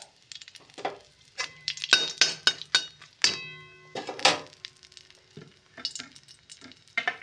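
Dried red chillies sizzle in hot oil in a wok for a prawn and pumpkin-leaf dish, with loud frying bursts, stirring and light clinks of a utensil against the pan.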